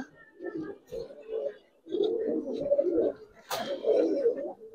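Giribaz pigeons, just released from the hand, coo close by in several bursts of throaty, rolling calls separated by short pauses, with a brief flap or rustle near the end.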